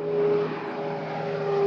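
An Airbus A400M military transport aircraft flies at low altitude, its turboprop engines giving a loud, steady drone with a sustained humming tone, heard alone without voices.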